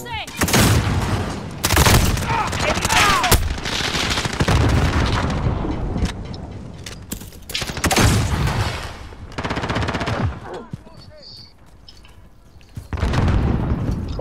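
In a shooter video game, gunfire and grenade explosions come as loud, repeated sharp bursts and booms spread across the clip, separated by short lulls.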